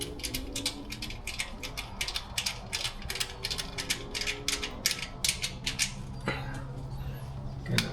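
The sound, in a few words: tightening down WRX catch can fitting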